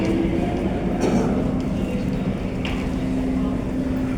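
A Tokyu 8500 series KRL commuter electric train rumbles steadily up close, a continuous low-heavy roar with mechanical whine and a few brief metallic clatters over its running noise.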